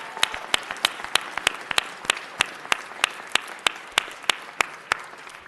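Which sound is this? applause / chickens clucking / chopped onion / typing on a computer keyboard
applause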